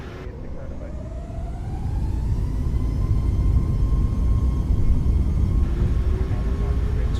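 Airliner jet engines spooling up during the takeoff roll in a flight simulator, a loud steady roar with a rising whine that builds and holds, and voices talking over it.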